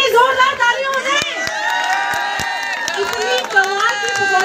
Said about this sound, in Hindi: जोरदार तालियों से